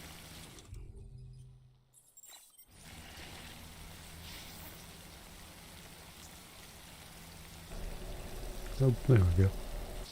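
Steady rain falls outdoors on a city street, a soft continuous hiss with a brief quieter gap, while a person speaks briefly and some closer splashing or trickling rises near the end.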